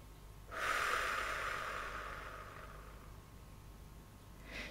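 Slow, soft exhale through the mouth during a relaxation exercise, a steady breathy rush lasting several seconds and gradually fading, close and quiet, with a new breath starting at the end.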